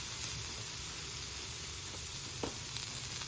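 Butternut squash cubes stir-fried on a flat top griddle with garlic powder give off a steady, faint sizzle with a soft hiss that holds evenly throughout.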